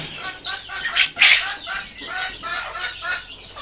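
Young farm chickens clucking in quick, uneven bursts close by, with occasional rustling and a brief flurry in the middle.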